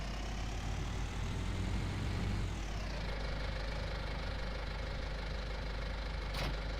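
Tractor engine idling after pulling in to drop off a trailer on a farm, a loud, steady low rumble with a knocking tone that shifts pitch as revs drop partway through, no speech.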